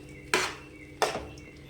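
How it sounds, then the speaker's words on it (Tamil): A spoon stirs soya chunks into thick gravy in a pan, giving two distinct scraping clanks against the metal about a second apart, fairly quiet, with a faint simmering background. "அதுக்காக நம்ம நல்லா மிக்ஸ் பண்ணி விட்டுக்கலாம்"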